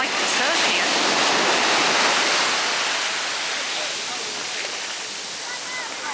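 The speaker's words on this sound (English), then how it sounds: "There's some pretty massive waves coming in." Large ocean waves breaking at Maho Beach, St. Maarten, a loud, continuous roaring wash of surf that swells and eases slightly, heard close by with no voices.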